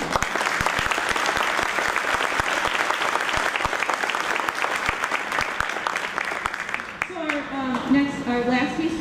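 Sustained audience applause for a junior band at a school winter concert, dense clapping filling the hall for several seconds before tapering as a voice begins speaking near the end.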